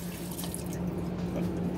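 Baby carrots being rinsed under a running kitchen tap: a steady, close stream of water splashing into a sink, with no talking.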